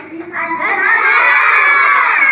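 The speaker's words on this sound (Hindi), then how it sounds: "ताली बजाइए इनके लिए।" Schoolchildren at a primary school environment seminar clap and cheer together, a loud sustained burst of young voices shouting and hands clapping that swells after a quieter start and holds steady.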